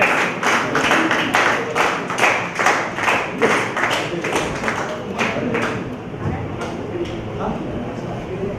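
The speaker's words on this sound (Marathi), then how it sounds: "सगळ्यांनी जोरदार टाळ्या वाजवूया" Audience clapping at a Ganesh mandal centenary celebration and souvenir release ceremony, a run of rhythmic claps that fade toward the end, with voices mixed in.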